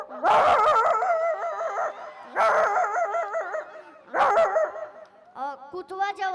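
A man imitates a village dog's barking with his voice, loud, close bursts of wavering yelps and whines in three main runs, ending in quicker yips.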